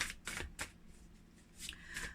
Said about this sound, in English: we're just shuffling the deck